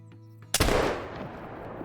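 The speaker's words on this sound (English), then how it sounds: "We're going to hold on that front shoulder and go for the shot" A single loud rifle shot fired at a whitetail buck in the hunting game Call of the Wild, sharp and close, followed by a long fading echo.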